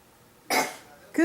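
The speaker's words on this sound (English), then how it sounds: "Cough by covering your mouth." A person coughs into a covered mouth, one short muffled burst followed by the start of another, close and fairly loud against a quiet background.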